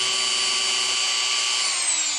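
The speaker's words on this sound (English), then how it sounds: "So I ended up having to use a Dremel, which is pretty much just like a super fast spinning" High-pitched steady whine of a Dremel rotary tool spinning while sanding the rounded edges of a prop sword, close and continuous, pitch dipping slightly at the end.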